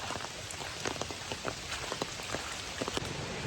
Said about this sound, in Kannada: ಇಲ್ಲಿ ನೋಡಿದ್ರೆ ಸಮ ಹೊಡಿತಿದೆ ಮಳೆ